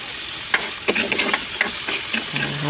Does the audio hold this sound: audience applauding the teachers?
no